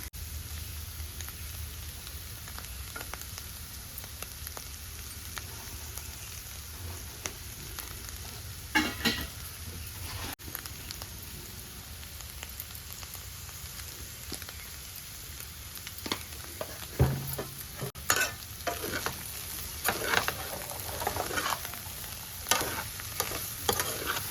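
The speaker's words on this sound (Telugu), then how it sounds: "ఉప్పు కారం వేసేసి ఇంకొక 5 minutes ఫ్రై చేసుకున్నాము" Cauliflower pieces, cut large, frying in a pan with salt and chili, with a soft continuous sizzle and sporadic scraping stirs that grow busier toward the end.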